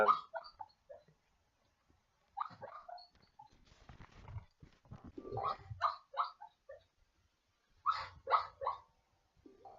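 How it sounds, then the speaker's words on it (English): A puppy gives a scattered series of short yelps, whines and barks, close and fairly quiet, with pauses between bursts and some rustling handling noise. "puppy."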